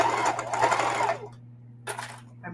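A sewing machine stitches a patch onto work pants, whirring loudly and close for about a second before it stops, followed by a quieter short mechanical burst.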